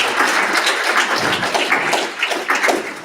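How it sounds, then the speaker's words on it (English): Clapping from a meeting audience carries on steadily, a close, dense patter of many hands with some uneven swells and no talking over it. "Let's keep the applause rolling, please."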